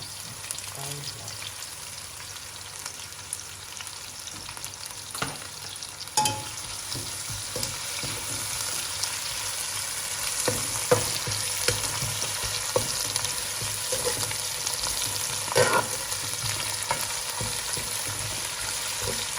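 Onions fry in a pan for ikan sup bunga kantan with a continuous crackling sizzle, punctuated by occasional clinks and stirring scrapes, while faint voices talk in the background.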